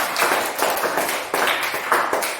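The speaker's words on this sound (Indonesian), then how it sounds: "Tepuk tangan buat teman-teman mereka." Classmates clapping in a classroom, several quick bursts of close, fairly loud applause that come and go in short waves.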